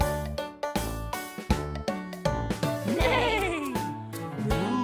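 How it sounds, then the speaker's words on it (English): Sheep bleating on a farm, a wavering bleat standing out over a bouncy children's song with steady music throughout. "The sheep on the farm say ba,"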